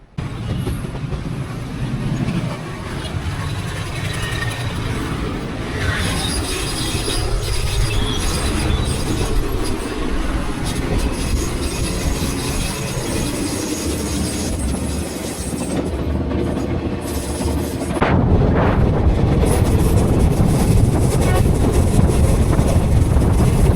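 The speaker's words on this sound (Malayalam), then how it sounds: "ഏറനാട് എക്സ്പ്രസിൻ്റെ ജനറൽ കോച്ചാണ്." Inside the general coach of the moving Eranad Express on Kerala's historic Tirur line, a continuous loud rumble of wheels on rails with clattering and occasional squeals, swelling heavier near the end.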